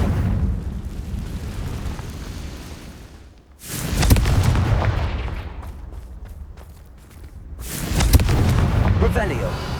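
Confringo fire spell in Hogwarts Legacy, two loud booming explosions a few seconds apart, each with a rushing burst and rumbling tail, with speech around them.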